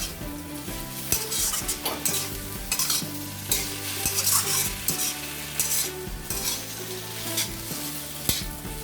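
Chicken fried rice ingredients stirred and tossed in a hot pan, with a steady loud sizzle of frying and repeated scraping and clattering of a utensil against the pan.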